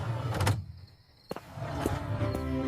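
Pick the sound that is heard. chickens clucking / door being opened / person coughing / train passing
door being opened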